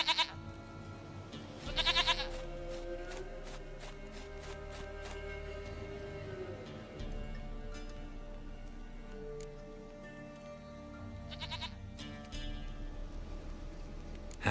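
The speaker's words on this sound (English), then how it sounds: "Goat of mine, dearest, sweetest goat." A goat in The Witcher 3 bleats in a few short bursts, moderately loud against a quiet game ambience with light ticking, with no speech.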